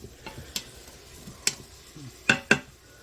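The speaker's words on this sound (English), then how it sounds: "That's going to go in and go sizzle for a little bit." A faint steady sizzle of food frying in a pot for Hoover stew, broken by a few sharp clinks and scrapes of a utensil against the pan.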